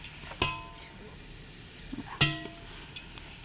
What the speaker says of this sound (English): let me just stir it a bit, and then we can go ahead and cover it for cooking